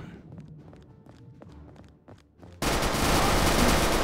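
Gunfire in the shooter RealRTCW, scattered shots and footsteps at first, then a sudden loud, dense burst of continuous fire filling the last second and a half.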